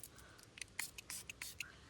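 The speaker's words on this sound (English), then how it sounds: "We'll spray some of that as well." A series of short, soft spritzes from a pump spray bottle, about eight quick bursts in an irregular rhythm, close and quiet.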